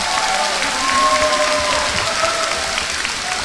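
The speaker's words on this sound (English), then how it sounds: "you always seem to get the loudest applause on that" Steady applause from a large audience fills a university convocation hall during introductions of deans, with a few thin whistles rising above the dense, continuous clapping.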